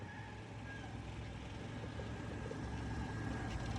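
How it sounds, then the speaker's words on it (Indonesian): A 1996 Toyota Kijang SSX engine idles with a low, steady rumble and faint mechanical hum, continuous and unchanging, with no voices. "Mesin nyaris tak terdengar."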